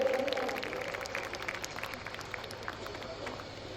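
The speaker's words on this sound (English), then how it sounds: "All of you, please clap, all of you." Audience clapping at a graduation ceremony after a gold medal is announced: soft, sustained applause spread through a hall, fairly quiet and fading a little, with speech over it.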